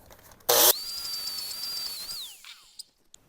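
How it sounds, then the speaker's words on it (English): A grinder with a flap disc cleans up welds on a homemade metal pet sled. A sharp burst of contact noise gives way to a high, steady motor whine that winds down after about two seconds, followed by a couple of faint knocks. "I'm just going to clean up my welds a little bit. I'm just using the same flap disc we used earlier"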